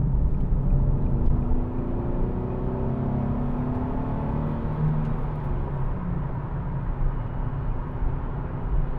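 A 2014 Nissan 370Z GT with a 3.7-litre V6 accelerates on the road, its deep engine note rising steadily under constant road rumble, heard from inside the car.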